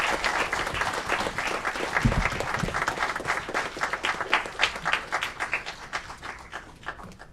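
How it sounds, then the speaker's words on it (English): Applause from the audience at a city council committee meeting, a steady patter of many hands clapping for several seconds that thins out and tapers toward the end. "Another round of applause as he makes his way to Mr."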